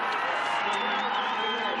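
A crowd cheers and applauds at a Winter Universiade 2019 race, a sustained roar heard from a distance that keeps going under a commentator's voice.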